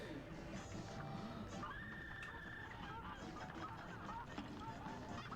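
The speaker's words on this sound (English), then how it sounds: "Ducking does not help too much against Goose." Goose enemy honking in the Cuphead video game, a faint honk amid busy game music and effects.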